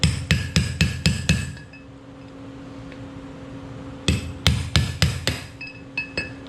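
Sharp ringing metal hammer taps seating a wheel bearing into the front rotor of a 1983 Toyota Land Cruiser, two quick bursts of about six close, evenly spaced strikes separated by a quiet pause.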